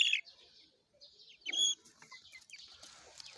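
A rooster giving short clucks and calls, a few brief bursts separated by quiet gaps, fairly faint and close, with no talking over them.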